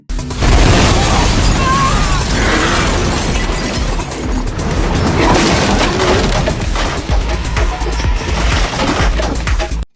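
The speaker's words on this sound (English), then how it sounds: "After the explosion" A loud, sustained roar of blast and crashing debris fills the scene, dense and rumbling throughout, with faint voices buried underneath.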